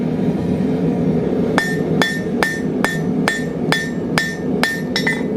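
A hammer strikes a nail on an anvil to flatten it, about ten sharp, ringing metallic blows at a steady, quickening pace, close and loud over a low background hum.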